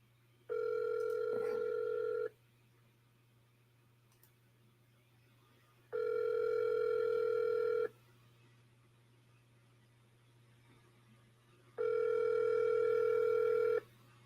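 An outgoing telephone call rings on the line, sounding three long, even ringback tones about four seconds apart over a faint steady hum, with no one speaking.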